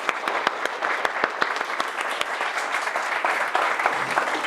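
At a software testers' gathering, a room of attendees claps, a crisp, continuous patter of hands close by with a few distinct louder claps standing out.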